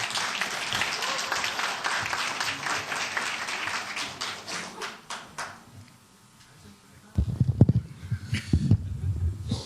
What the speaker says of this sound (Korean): 여러분 힘찬 박수로 맞아주시기 바랍니다